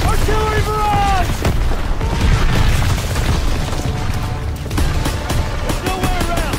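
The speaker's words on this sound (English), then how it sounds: "Artillery barrage!" Artillery barrage in a Call of Duty WW2 battle: heavy booming explosions land in quick succession, with shouted soldier voices over the blasts and continuous rumbling combat noise.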